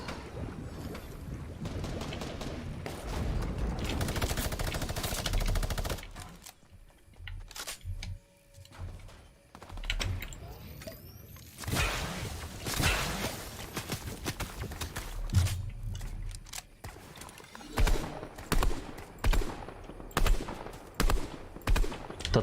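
Fortnite gunfire: bursts of shots crack out among rushing wind and game noise, with a busy stretch early, a quieter middle and a string of sharp, evenly spaced reports near the end.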